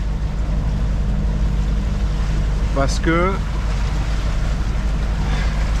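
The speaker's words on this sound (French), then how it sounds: "Obligé de faire un appui moteur." A sailboat under sail with its engine running for extra push, leaving Porto Pollo for Ajaccio, gives a steady low motor hum beneath constant wind and water rush, with someone speaking briefly midway.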